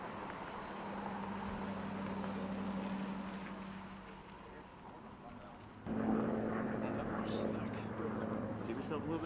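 A military helicopter roars steadily with a low engine hum and rotor noise during rope suspension training, the pitch shifting and growing louder partway through as people talk faintly.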